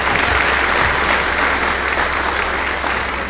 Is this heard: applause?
yes